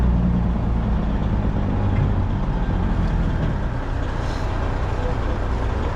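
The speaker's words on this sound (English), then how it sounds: "Beautiful truck." A Dutch Transport truck rolls in with a steady, loud low-end rumble of engine and tires that holds close and constant, though no distinct air-brake hiss stands out above it.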